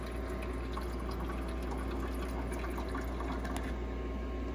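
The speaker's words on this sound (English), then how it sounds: "Yeah, I hear the water coming up." A portable ice maker pumping water up to fill its tray, a constant low motor hum under a soft trickling, bubbling flow of water, steady and close with no voices.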